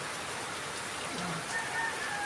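Steady, dense rain hisses evenly throughout, a constant wash of drops with no pauses and no voices.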